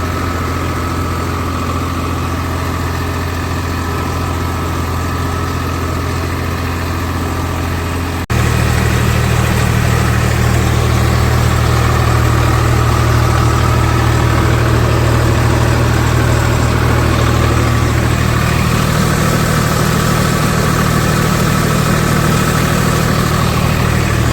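A tractor engine runs steadily in a rice paddy field being puddled, a loud, close, low rumbling drone that steps up to a heavier, stronger roar partway through and holds there, with no talk.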